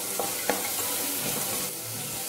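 Peanut masala rice with tomato and green chili stirred in a frying pan, a steady close sizzle with a couple of light spoon scrapes near the start.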